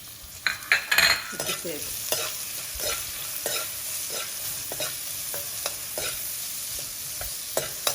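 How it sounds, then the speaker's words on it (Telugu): Cut green chilies and onion pieces sizzle in a pan while a spoon scrapes and taps against the pan in irregular strokes. The clatter sounds close, and a voice says a single short word early on. "తర్వాత పచ్చిమిరపకాయలని ఇలా కట్ చేసుకున్నాను, దాన్ని కూడా వేసి వేగనివ్వాలి"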